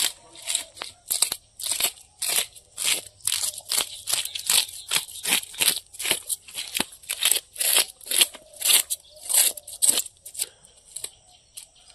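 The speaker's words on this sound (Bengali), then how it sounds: "মা মাছের আঁশটা ছাড়িয়ে নিচ্ছে" A mother scales a large katla fish with a potato peeler in a village kitchen, giving a fast run of crisp scraping rasps, about two per second, loud and close, with no talking.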